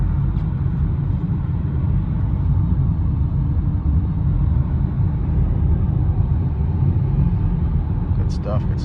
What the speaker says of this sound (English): the car is just driving okay actually